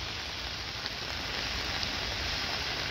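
Light rain falling on a street at a corner of East Main, Helms and Dorothy, a steady, even hiss of rain with no pauses, close and moderately loud.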